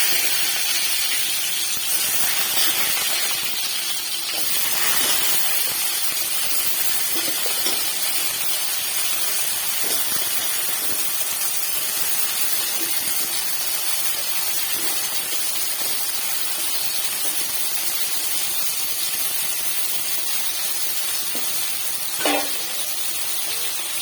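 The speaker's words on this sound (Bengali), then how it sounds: "তো তেল গরম হয়ে এসেছে, আমি এখন তেলের মধ্যে ছেড়ে দেব আলু।" Potatoes fry in hot oil with a constant hiss and sizzle, moderately loud and close, dotted with a few faint pops and clinks throughout.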